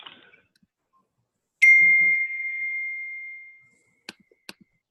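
Computer notification chimes during a webinar: a single clear bright ding that rings out and decays for about two seconds, followed by a couple of short quick clicks or blips, in otherwise quiet surroundings.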